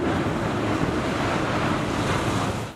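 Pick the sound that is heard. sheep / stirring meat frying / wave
wave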